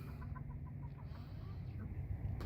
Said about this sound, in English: It makes happy chickens.